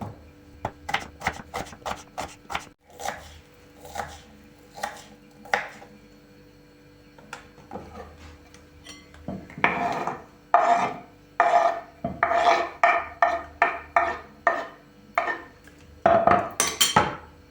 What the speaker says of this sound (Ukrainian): Одну цибулю теж нарізаємо кубиком.